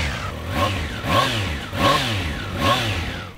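A Triumph Trident 660 motorcycle with its stock exhaust revs up four times in a steady rhythm, each blip rising and falling, close and loud with no talking.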